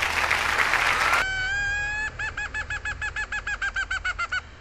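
A burst of noisy clatter gives way to a high, reedy whistled call from a leaf caller, then a rapid series of short pulsed chirps imitating a hen's clucking, used to call wild chickens.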